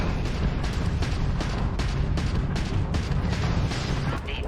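Missiles and ballistic rounds slam into an enemy ship during a Starfield space battle: a dense, continuous barrage of rumbling booms and crackling impacts, loud and close, with no talking over it.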